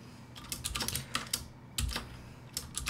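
Rapid clicking keystrokes on a computer keyboard, typing in short bursts with brief pauses, close and clear with no voices.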